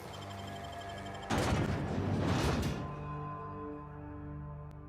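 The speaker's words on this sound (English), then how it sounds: "is that gunfire?" Gunfire in the video game The Outer Worlds, a burst of rapid distant shots lasting about a second and a half, moderately loud over a constant low background hum.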